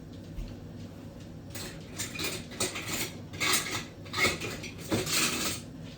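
Metal spoons and utensils clatter in a home kitchen during pho preparation, a series of close, sharp clinks and rattles in irregular bursts, growing busier toward the end.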